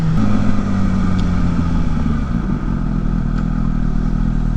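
A motorcycle engine drones steadily and close up while the rider commutes to work in traffic, a continuous low rumble with light mechanical clatter and no talking.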